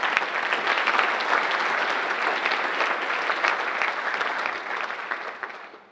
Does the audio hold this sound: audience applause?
yes